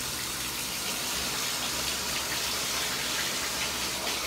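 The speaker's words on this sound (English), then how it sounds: "The water's running." Tap water runs in a steady, broad hiss and gush, probably filling a bath. The sound is even and unbroken, with nothing else heard.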